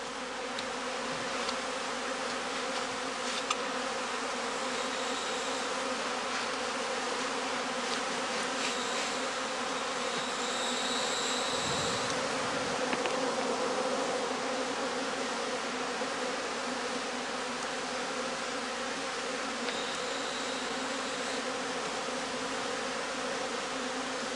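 Honeybees buzz steadily around a straw skep hive, a dense continuous drone close by with occasional louder individual bees passing.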